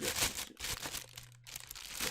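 Crinkly plastic bag and bubble wrap are pulled open around a Thronmax P1 pop filter, with bursts of rustling and crackling close up and a short pause in the middle.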